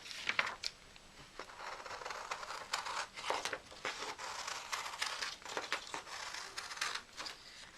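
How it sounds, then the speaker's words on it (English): Scissors cutting through two layers of fabric held together with a template, a quiet series of irregular crisp snips and rustles, close and alone. "I'll need 2 pieces of fabric faced together and cut both of them out."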